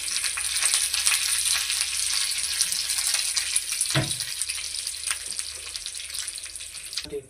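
Mustard seeds and curry leaves sizzle steadily in hot oil while a besan dhokla (nylon khaman) tempering is made, a dense continuous crackle with one sharp pop partway through.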